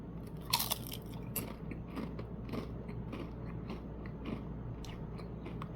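Close-up crunching bites and chewing of a beer braised steak flavored Pringles chip, a sharp crisp snap near the start followed by a run of small, quiet crackling chews.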